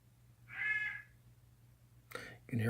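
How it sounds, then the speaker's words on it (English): Pet parrots calling in the background of a room, one raspy squawk and then a couple of short harsh calls near the end, faint and somewhat distant. "You can hear our parrots in the background."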